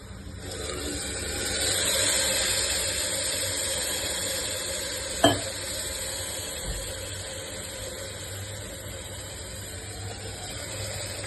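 Tomatoes added to a hot pan and fried while cooking Sindhi chana dal, giving a steady soft sizzling hiss throughout, with a single sharp utensil clack partway through.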